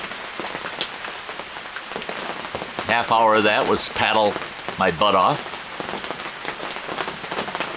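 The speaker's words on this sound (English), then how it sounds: "otherwise been dealing with the rain all day" Steady rain patters on a surface at a campsite at Black Lake, a continuous close hiss of drops running throughout while someone talks over it.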